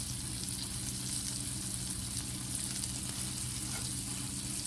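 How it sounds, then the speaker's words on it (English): Constant crackling sizzle of thinly flour-coated chicken sautéing in a hot pan, a steady close-up frying hiss with no talk. "Because you're only sauteing these. You're not deep frying them."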